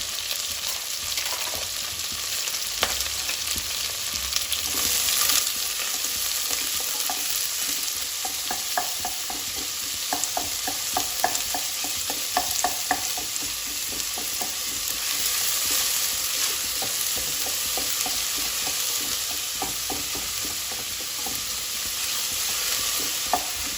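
Four or five onions fry in a pan for mutton curry, cooked until golden, with a steady, close sizzle throughout and frequent scraping and stirring clicks.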